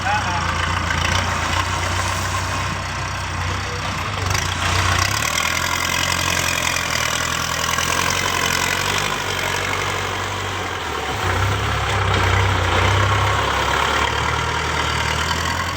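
A Kubota L5018 tractor engine runs at low throttle on a narrow rocky track, a steady low diesel rumble that is continuous and close, with a voice talking over it.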